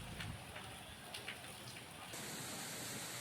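Heavy rain falls with strong gusting wind in Amreli, Gujarat, making a faint, steady hiss and patter with a few scattered louder drops.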